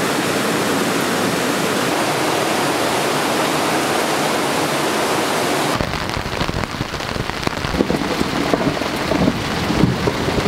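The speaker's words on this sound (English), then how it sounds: "Do you think this is the real rain?" Heavy rain falls at an outdoor bouldering spot, a dense, loud, steady hiss that abruptly thins after several seconds into a rougher, patchier patter of drops.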